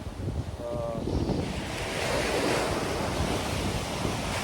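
Waves washing onto a beach with steady wind buffeting the microphone, a continuous broadband roar of surf close by with no talking.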